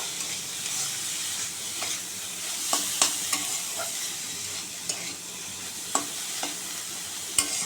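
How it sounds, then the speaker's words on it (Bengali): Steamed bottle gourd peel sizzles in a hot pan while a spatula stirs it, a constant close frying hiss with sharp intermittent scrapes and taps against the metal. "লাউয়ের খোসাটা একটু ভাজা ভাজা করে নেব"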